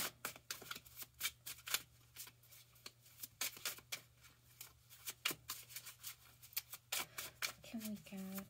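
Tarot cards being shuffled by hand, a long run of rapid papery riffles and flicks, close and fairly quiet, with a voice talking briefly near the end.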